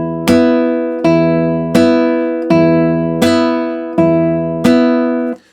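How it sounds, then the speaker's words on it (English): Guitar thumb slaps played without muting the adjacent strings, six strong percussive hits at a steady pace, each ringing out into a fuller cluster of notes, close and loud with no voices. "And if I took them away, it would sound something like this."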